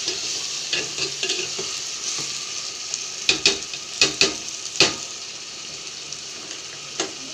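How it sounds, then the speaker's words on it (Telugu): A spoon stirs a non-veg curry with rock salt in a pan: a soft frying sizzle runs throughout, broken by several sharp scraping knocks of the spoon against the metal. "ఇప్పుడు ఇది బాగా కలబెట్టుకుందాం కొద్దిగా"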